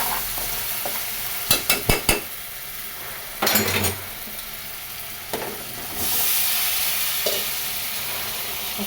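Turmeric, salt and spices frying in a pan, a steady sizzle with a spoon stirring and scraping in a few sharp clinks, then a louder hiss swelling near the end.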